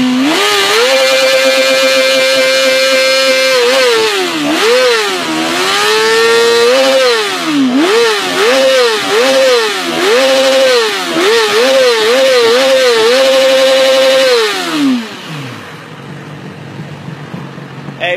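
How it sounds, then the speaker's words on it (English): A motorcycle engine revs hard and close, climbing and falling through repeated throttle blips in a loud rhythmic pattern before winding down to idle and cutting off near the end. "we're just gonna rev it up one last time for him"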